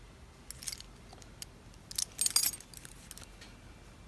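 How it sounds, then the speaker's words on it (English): Reproduction keys for a 1958 Edsel jangle close up in several bright metallic bursts, a brief shake early on and a fuller rattle near the middle, then a few light clinks fading out. "I want to show you these keys."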